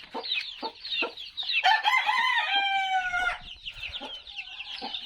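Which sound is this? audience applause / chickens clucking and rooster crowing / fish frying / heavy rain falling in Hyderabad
chickens clucking and rooster crowing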